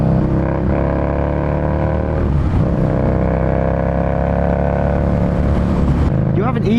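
Harley-Davidson Street Rod 750 motorcycle cruises along Cornish back roads, a steady, loud engine drone with rushing wind noise, and a rider talking over it.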